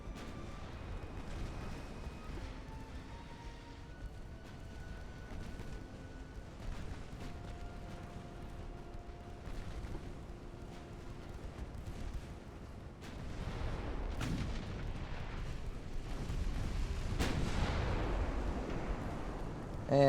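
Naval guns fire in the warship game Ultimate Admiral: Dreadnoughts, with deep, rumbling booms rolling in under low background noise and a heavier salvo building toward the end.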